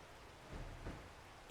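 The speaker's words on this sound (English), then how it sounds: "'Cause it's flipping raining." Rain falling in the survival game 7 Days to Die, a steady wash of noise with a couple of deeper rumbling swells, quiet and even throughout without any voices.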